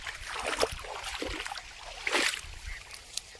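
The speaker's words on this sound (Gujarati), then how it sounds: "ધોરિયામાં મસ્ત પાણી જાતે" Water rushes and splashes steadily along an irrigation channel watering a maize field outdoors, with a few louder gurgling surges over the continuous flow.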